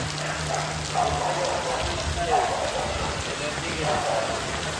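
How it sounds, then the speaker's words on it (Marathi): Steady rain falls and water pours into a water tank, a dense continuous hiss and splash, with a voice faintly underneath. "इथं पाणी पडायला लागला बघा"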